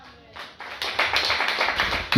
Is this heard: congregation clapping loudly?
yes